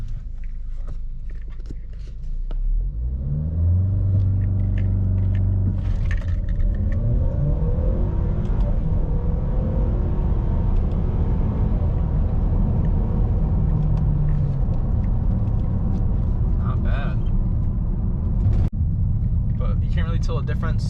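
A 2017 Ford Escape Titanium with a 2.0L EcoBoost engine and AWD accelerates hard from 0 to 60 mph, its engine note rising steadily through several gears inside the cabin. The loud, continuous rumble runs for the whole stretch.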